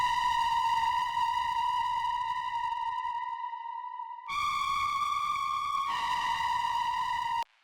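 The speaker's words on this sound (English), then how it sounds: "And some distortion to make the pads really crushy." Distorted, crushy synth pads for hard industrial techno made in FL Studio sustain as a loud, steady buzzing tone with rich harmonics, dropping out briefly before resuming at a slightly shifted pitch.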